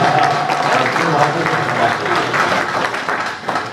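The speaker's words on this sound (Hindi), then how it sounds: "जोरदार तालियों से" Loud, sustained applause from an audience at an all-India mushaira poetry gathering in Malegaon, a dense wash of clapping that holds steady for several seconds before easing slightly near the end.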